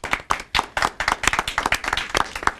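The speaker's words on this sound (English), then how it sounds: "All right, big round of applause for her." An audience claps for a student speaker at a live debate on virtual versus traditional schools: close, loud individual hand claps in a quick irregular rhythm, sounding like a small group, with no voices.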